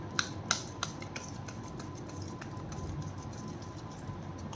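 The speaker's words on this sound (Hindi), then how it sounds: "this is my last shuffle angels" Tarot cards shuffled by hand at close range, with a few crisp snaps near the start giving way to a soft, steady papery rustle, fairly quiet and with no talk.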